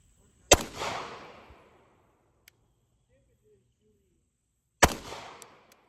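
Two sharp, loud pistol shots from an H&K VP9L at an outdoor range, several seconds apart, each with a short decaying echo and near silence between them.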